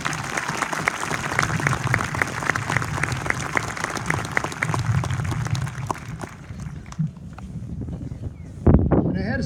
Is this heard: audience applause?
yes